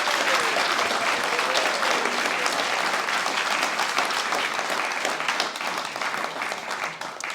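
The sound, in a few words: audience applause for graduating class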